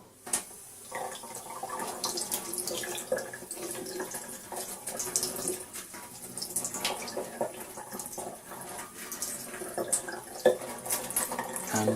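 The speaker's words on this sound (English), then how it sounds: "if you just rinse it under warm water" Running tap water splashes steadily into a sink, with a few small clatters as a Dyson V6 cordless vacuum filter is rinsed under the warm stream.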